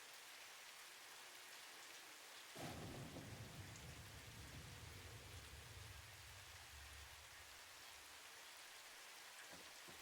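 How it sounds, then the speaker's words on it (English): Thunder in the game Satisfactory: a sudden low rumble breaks in and rolls on for several seconds over a faint, quiet rain-like hiss, with no voices. "There's thunder."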